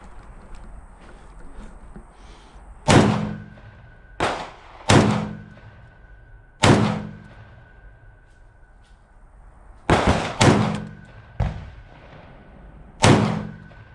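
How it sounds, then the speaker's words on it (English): Eight loud, sharp 12-gauge slug reports, irregularly spaced, fired from a Black Aces Tactical Pro Series bullpup shotgun fitted with a V6 Industries muzzle brake, each a close, booming crack with a short decay. "All right, so these are some slugs with the V6 brake on."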